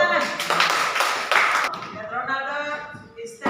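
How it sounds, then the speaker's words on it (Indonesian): A classroom of students claps for a classmate, a burst of scattered hand claps in the first half that thins out as a voice starts talking over the room. "Give applause for your friend."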